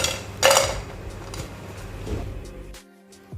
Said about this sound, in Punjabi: ਮੈਂ ਤੁਹਾਨੂੰ ਤੋੜ ਕੇ ਦਿਖਾਉਂਦੀ ਹਾਂ ਦੇਖੋ ਦੇਖੋ ਕਿੰਨੀ ਕ੍ਰਿਸਪੀ ਬਣ ਕੇ ਤਿਆਰ ਹੋਈ ਹੈ